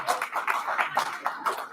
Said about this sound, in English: how about a big round of applause for our sponsor today, Cindy Graney